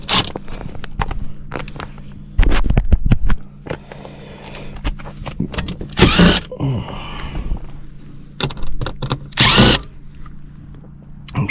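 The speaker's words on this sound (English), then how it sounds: "Let's get the drill on it." A power drill is used near a hard pipe in a zoned HVAC system, with several loud whirring bursts standing out against clattering handling noise and scraping, all close up.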